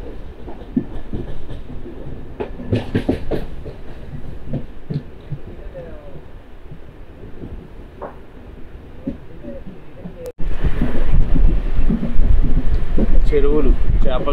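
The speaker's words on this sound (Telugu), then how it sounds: "మెల్లిగా మన ట్రైన్ అయితే మెయిన్ లైన్లోకి అయితే కలిసిపోయింది." A MEMU passenger train running on the main line, heard from inside as a rumbling carriage with rhythmic clickety-clack of wheels over rail joints, growing markedly louder and rougher in the final seconds.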